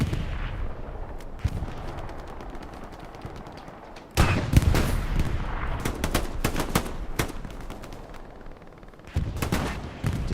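An M3 grease gun submachine gun fires in Hell Let Loose on the Omaha map: close, punchy automatic bursts with sharp individual reports over a rumbling battlefield backdrop of distant shots and explosions.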